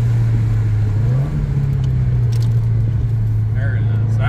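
A 2015 Subaru WRX engine with coilovers revving on a downshift, a loud steady in-cabin drone that rises in pitch briefly, with a voice talking over it.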